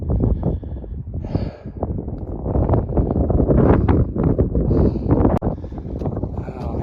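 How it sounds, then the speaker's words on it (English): Strong wind buffets the microphone on a mountain backpacking hike near Landslide Lake, roaring continuously and loudly with gusty surges throughout. "Oh man, right into the wind."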